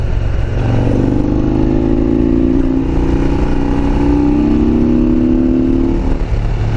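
A Harley-Davidson Road King's V-twin engine drones loud and steady through a corner at highway speed in fourth or fifth gear, with its pitch rising slightly and wind noise underneath.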